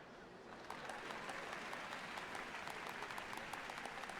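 Crowd applause in Final Fantasy XIV at the changing of the Dawn Servants, a dense sustained clapping that swells in after a brief quieter moment and carries on evenly.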